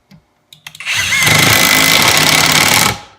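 A Kimo 20V brushless impact driver fitted with a Phillips bit drives a 1¼-inch screw, with a few short clicks and then a loud, steady hammering whir for about two seconds before it stops.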